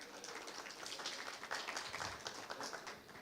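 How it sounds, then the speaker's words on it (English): An assembly audience applauds steadily, with dense, fairly quiet clapping from a crowd that carries on without pause and has no voices over it. "Nice round of applause."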